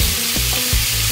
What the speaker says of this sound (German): Das werde ich jetzt alles nochmal scharf anbraten.